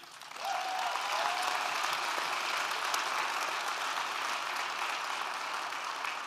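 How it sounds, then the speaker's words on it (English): A large audience at an evening camp gala claps steadily for the campers, a dense, sustained round of applause from start to finish without voices. "let's give a big round of applause to our campers"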